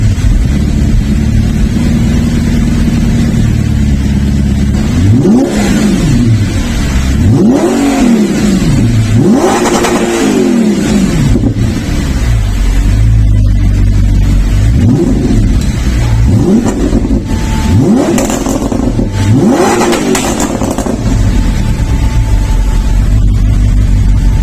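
Audi R8 with an aftermarket sportier exhaust, its engine revved repeatedly in loud rising and falling sweeps over a steady idle rumble, heard close for about twenty-four seconds without talking.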